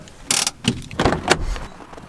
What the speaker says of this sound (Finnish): täällä kauhea meteli, kun noi rekat vetelee tosta ohi